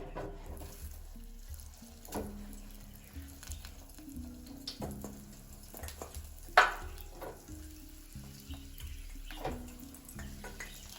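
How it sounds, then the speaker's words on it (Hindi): Spring rolls frying in hot oil give off a quiet, steady sizzle with a few soft clinks and splashy knocks scattered through. "तो जब रोल ये बन जाए तो आपने इसको फ्राई कर लेना है"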